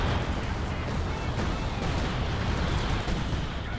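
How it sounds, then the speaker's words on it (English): Heavy, continuous rumbling explosions from a bombing run in the Company of Heroes 2 strategy game, dense and loud with no clear gaps between the blasts. "bombing run going in there"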